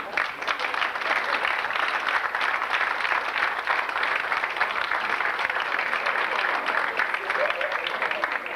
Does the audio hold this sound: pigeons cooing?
no